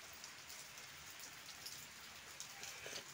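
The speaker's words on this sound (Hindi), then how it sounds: "बाहर वर्षा देख" Steady rain falling outdoors, a dense continuous hiss of drops hitting surfaces with faint scattered patters, fairly quiet and unbroken throughout.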